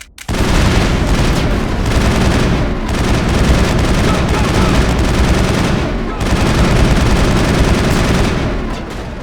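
Dense, continuous gunfire from a Mass Effect shootout, rapid weapon bursts and booms sustained loudly for several seconds with brief dips, shouted voices mixed in.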